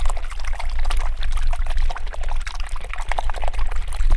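A paintbrush is swished vigorously in a collapsible water container, giving a close, continuous watery sloshing and splashing with no talking.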